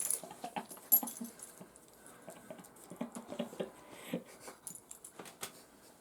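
A pet dog moving about nearby indoors, with soft patters, claw clicks and small jingling tags, faint and intermittent against a quiet room.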